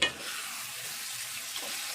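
Bottle gourd curry cooking in a pan, the lid lifted and the mix stirred, giving a steady close hiss with faint scraping underneath, opening on a short clatter.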